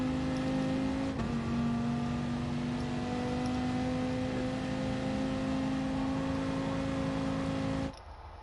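Race car engine held flat out at full throttle on the Nürburgring, a loud steady in-car drone with strong harmonic tones for about eight seconds before it abruptly drops away.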